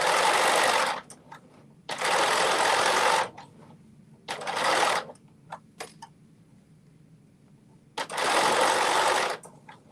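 Sewing machine stitching elastic for a garment, running in several loud bursts of rapid stitching separated by pauses with small clicks and handling noises.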